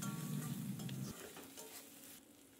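Spice paste for a shrimp and jackfruit curry fries and is stirred in hot oil, a steady close sizzle with scraping strokes that thins out after the first second.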